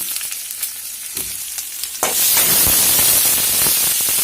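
Finely chopped onions dropped into hot oil in a pan while making thattapayaru sundal, a quiet stir and light clatter giving way to a sudden loud, steady sizzle of frying that continues to the end.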